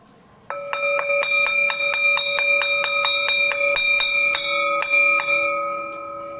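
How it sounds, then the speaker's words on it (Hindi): A bright school bell rings in rapid repeated strokes, a steady metallic ding-ding pattern that sustains and lingers, then fades slightly at the end. "घंटी बज गई।"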